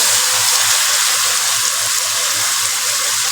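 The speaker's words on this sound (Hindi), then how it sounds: "थोड़ा सा पानी ऐड कर दिया ताकि मसाले हमारे जल न जाएं।" Water pours into sizzling masala with tomatoes while a dhaba-style daal chana fry gravy is cooked, a loud, constant hissing rush that holds steady with no talking.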